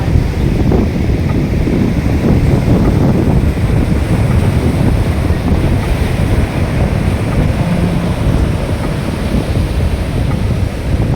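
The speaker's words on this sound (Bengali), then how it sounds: "সমুদ্রের ঢেউটা দেখো একবার।" Sea waves break and wash continuously along the rocky coast at Visakhapatnam, a loud, roaring surf heavily buffeted by wind noise on the microphone, with no voices.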